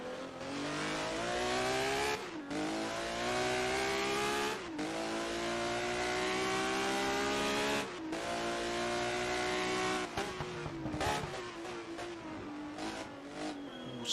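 On board a 1980 Procar race car at the Monaco Grand Prix, the engine roars loudly and close. It rises in pitch through each gear, drops sharply at every shift, and ends in a flurry of rapid downshifts and blips.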